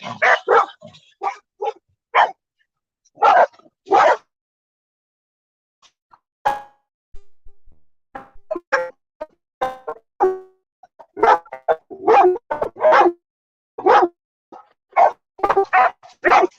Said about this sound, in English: Oh, what are you barking about?